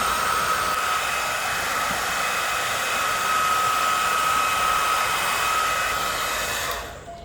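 A hair dryer on low heat warms and dries a surface after cleaning, giving a steady, loud whooshing roar with a faint whine that holds for several seconds before cutting off at the end.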